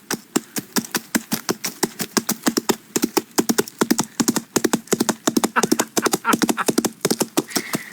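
Foley coconut shells knocked together to imitate horse hooves, a steady, close clip-clop rhythm of sharp hollow knocks repeating throughout like a horse trotting.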